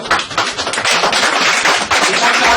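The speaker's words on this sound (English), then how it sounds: "Let's give him a round of applause" Audience applause at a business presentation, a dense, steady wash of many hands clapping, loud and sustained throughout with no voices over it.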